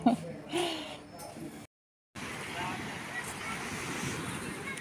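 Sea surf washes onto a beach on the Tuscan coast in the morning, a broad continuous roar with wind buffeting the microphone, briefly cut out partway, with someone speaking at the start.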